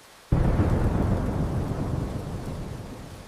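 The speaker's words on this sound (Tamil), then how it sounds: "மழை பேசுது." A heavy rumble of thunder breaks in suddenly and rolls on over steady rain, loud and close, fading slowly without any voices.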